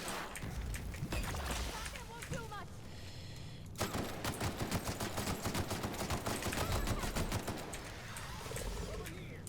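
Light machine gun fire in The Outer Worlds comes as rapid, rattling bursts that grow into a sustained stream of shots, mixed with other combat sounds and game noise while someone talks over the action.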